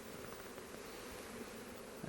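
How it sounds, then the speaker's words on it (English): Honeybees in a hive box, being inspected after a cut-out with old comb being rotated out, give off a soft, steady, close buzzing hum that continues evenly throughout, faint and unbroken with no talking. "It's definitely a box full of bees anyway, that's for sure."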